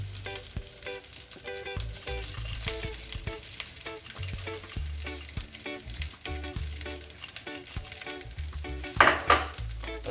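Vegetables sizzle steadily in a hot pan while egg-fried rice with kielbasa is frying, with a continuous crackle broken by frequent clinks and scrapes of a utensil stirring against the pan.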